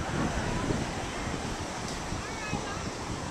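Ocean waves wash at a Jersey Shore beach, a broad, steady surf roar mixed with wind buffeting the microphone, while people talk over it.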